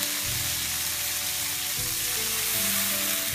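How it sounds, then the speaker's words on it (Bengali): Water poured onto half-fried onions with whole spices in a hot pan for a Bangladeshi chicken shahi roast, setting off a loud, dense, continuous sizzle right up close with no talking. "এখন আমি এর সাথে একটু পানি অ্যাড করব।"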